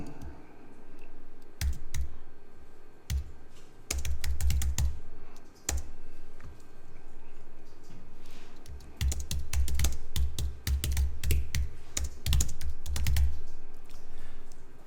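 Keys clatter on a computer keyboard in irregular bursts of quick taps, with short pauses between, close and fairly clear.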